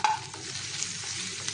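Chicken Manchurian ingredients being stirred and mixed in a frying pan, a steady close scraping and sizzling texture that carries on without a break and with no voices.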